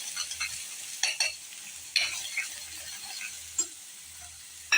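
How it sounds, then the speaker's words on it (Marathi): Raw ground masala paste fries in oil over a low flame for egg curry, a steady soft sizzle broken by repeated scraping and clinking stirs of a spoon against the pan, close by. "आता हे वाटण मी चांगलं असं हलवणार आहे"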